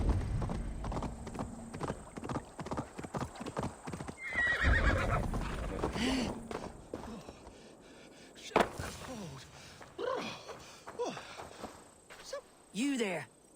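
Hooves clip-clop at a steady walking pace while a horse whinnies a few times in Assassin's Creed Valhalla, with scattered game sound effects and a voice speaking over it.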